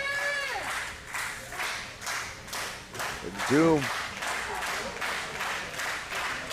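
Spectators at a Sabotage Women's Wrestling match between Heather Monroe and Deliliah Doom clap in a steady rhythmic beat and cheer, moderately distant, while a commentator talks over them.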